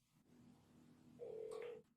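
A telephone number is dialed, producing a single clear electronic tone that holds for about half a second after a quiet stretch of faint hum, close and clean with no talking.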